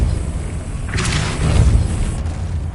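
Depulso force-push spell cast in the PS5 game Hogwarts Legacy, a single muffled boom with a whooshing burst over low rumbling game ambience, fairly close and steady in loudness.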